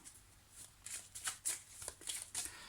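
Tarot cards shuffled by hand for a reading, giving a quick series of soft riffling flutters and slaps, close and fairly quiet.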